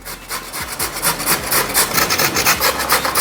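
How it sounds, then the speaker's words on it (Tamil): A carrot is grated by hand on a fine grater, giving loud, close, rhythmic rasping strokes in quick succession, each a short scraping burst, with no talk. "இந்த கேரட்டை நைஸாக உள்ள இதுல நல்லா திருவி எடுத்துக்கலாம்"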